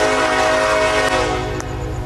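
A Norfolk Southern freight train sounds its horn in one long, loud, sustained blast, with rail rumble and clatter underneath throughout.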